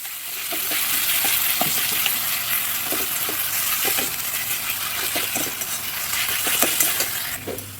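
Spice masala frying in oil for a koi fish curry, a steady close sizzle with repeated metallic clinks and scrapes of a spoon stirring in the pan.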